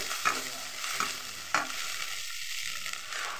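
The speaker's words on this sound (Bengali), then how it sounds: "আর একটু নেড়ে নেবো।" A spoon scrapes and stirs rui fish head with a spice mix, turmeric and salt in a hot pan, giving a soft sizzle with a few sharp scraping strokes, close and fairly quiet.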